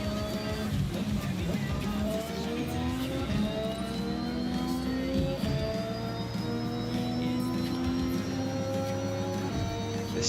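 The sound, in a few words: car engine accelerating in Forza Horizon 6 video game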